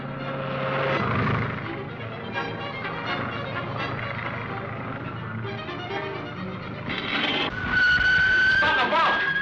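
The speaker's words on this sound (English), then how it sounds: "There's one of our planes making a landing now" A plane comes in to land close by in an old serial adventure scene, a broad engine roar with whining tones that builds and swells loud toward the end, while voices talk over it.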